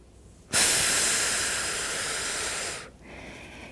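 A single long, forceful exhale through the mouth during a reformer Pilates exercise, a close breathy rush of air lasting about two seconds, with quiet room sound before and after.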